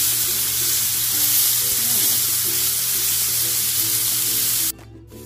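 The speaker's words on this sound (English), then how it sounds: "now we're gonna sear the other side" A cheap steak sears in a hot pan, producing a loud, dense, close sizzle that holds steady for nearly five seconds before abruptly cutting off, with no talking.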